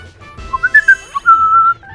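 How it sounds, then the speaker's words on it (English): A person whistles a short rising and falling melody close to a microphone, clear bright notes standing alone over a faint low hum. "Not sure if this microphone can pick up whistling properly."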